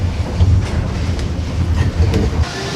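A passenger train running on tracks between Saigon and Hanoi in Vietnam, a loud, close rumble with rhythmic wheel clacks and brief high rattles, heard alone without talk.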